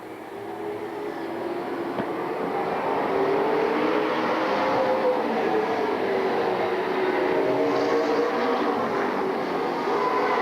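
Stock race cars running on the track during a 2002 Tri-State Challenge Series race at Robinson Rancheria, a steady, loud, blended roar of engines at a distance that holds through the whole clip.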